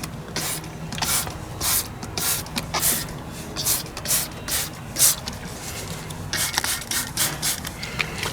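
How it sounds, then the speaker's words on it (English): Degreaser is sprayed in many quick hissing bursts onto the oil pickup pipe area of a Polo 9N3 GTI's 1.8 20vt engine. The bursts are close and fairly loud, in an irregular rhythm over a low background hum. "I'm just going to spray the sides with some degreaser to try and loosen all that shit up."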